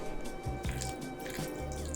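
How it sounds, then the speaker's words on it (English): Boiling water poured into a pot of stuffed mini eggplants, giving close wet splashing and dripping with a few squishy glugs over about two seconds, no talk. "Then pour in just enough boiling water"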